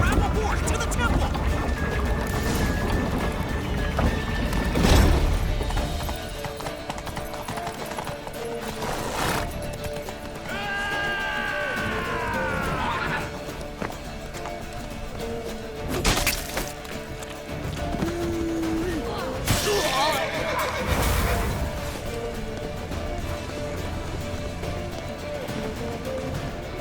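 Horses gallop and neigh during gameplay in The Witcher 3, with clip-clopping hooves, sharp impacts and a couple of whinnies rising over busy game sound and frequent voices.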